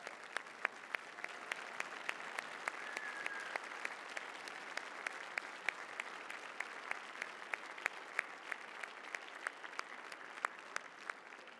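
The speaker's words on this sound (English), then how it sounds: "Would we like to all rise and give them a chance to be applauded?" Audience at a Holmesglen awards day session rises and applauds a group, a steady wash of many hands clapping from a moderately distant crowd, sustained evenly for several seconds without speech.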